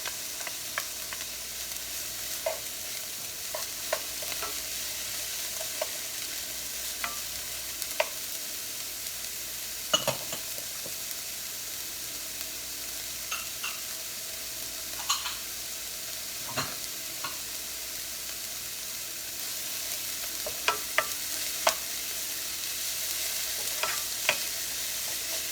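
Garlic frying in a pan for chili, heard as a steady, fairly loud sizzle close by, with occasional light stirring taps and scrapes throughout and no talking.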